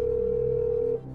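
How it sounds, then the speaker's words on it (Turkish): A telephone rings on the line during a call placed from the TV quiz show Kim Milyoner Olmak İster, heard as one steady, sustained tone lasting about a second before it cuts off. "Telefon çalıyor."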